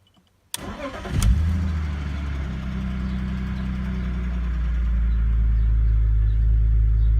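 A BMW E46 330Ci Clubsport engine starts with a sharp click and crank, then holds a steady, rumbling idle that grows slightly louder and smoother over several seconds.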